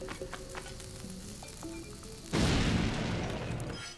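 A bomb detonates in Zelda: Link's Awakening, a sudden loud crackling blast that cuts in after quieter game sounds and hisses on for over a second before tapering off.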